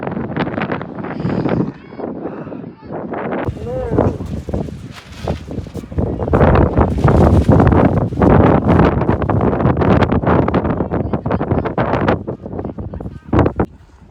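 Strong seaside wind in Büsum buffets the microphone in continuous loud, rough gusts that roar and dip throughout, with no clear voices over it.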